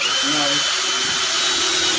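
A power drill driving screws into bathroom shower trim whines steadily at high pitch throughout, close and loud, with no break in the motor noise.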